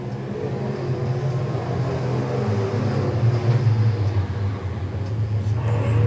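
Race cars running laps at Nevada Speedway in Nevada, Missouri, a steady loud engine drone with layered exhaust hum rising and falling slightly as the pack passes, continuous throughout with no voices.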